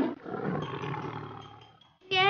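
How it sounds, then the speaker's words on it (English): A tiger gives a deep, rough roar that swells and fades over about two seconds, loud and close, followed by a brief start of a new sound at the end. "Tiger."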